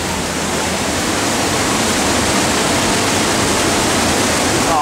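Rushing water near Mooney Falls on the trail to Beaver Falls at Havasupai roars loud and close, a constant broadband torrent with no pauses and no voices.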